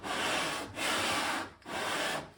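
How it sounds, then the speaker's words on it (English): Sandpaper rubs over wood being smoothed for a handmade urn, three long close strokes with short pauses between them, no talking. "So I'm just gonna start with sanding it down smooth"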